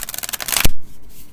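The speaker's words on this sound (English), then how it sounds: "You can do the rifle shuffle." A tarot deck is rifle shuffled up close, with a quick run of flicking card riffles that speeds into a dense burst and ends in a soft slap as the cards settle together.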